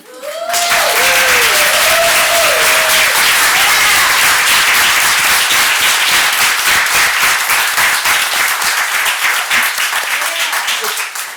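Sustained, loud applause from an audience at a city council meeting in Roanoke, honoring artists in the room, with a voice speaking briefly at the start before dense clapping fills the rest.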